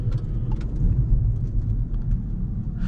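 Peugeot e-208 GT 2021 electric car driving on the road, a steady low rumble of tyres and road noise inside the cabin, continuous and fairly loud with no voices.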